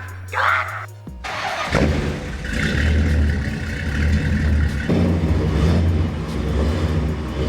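An old American custom car on tarmac, its engine revving up hard into a loud, sustained roar with rough low rumble as the back wheels spin, starting after a short transition and holding steady to the end.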